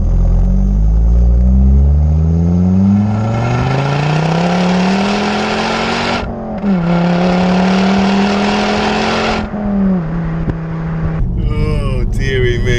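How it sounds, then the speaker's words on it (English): A 2005 Ford Focus ST with the 2.5-litre turbocharged five-cylinder engine pulling hard, its deep warbling note rising steadily through the revs with a brief lift at a gear change, loud and close, then easing off near the end. "To get any kind of cheeky 5-cylinder noise these days, you're going to be spending about 50 grand on an Audi RS3."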